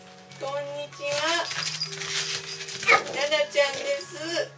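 A toy poodle barks and yips at a tortoise in repeated high, excited bursts close by, mixed with a voice talking over it.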